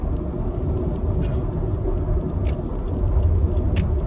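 Continuous low rumble and road noise heard from inside a small Suzuki Swift car cruising along a road, steady and fairly loud throughout, with no one talking.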